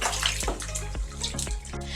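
Cloth diapers soaking in a tub are stirred by hand, giving close sloshing and swirling water with a few soft splashy pulses, continuous and without talk.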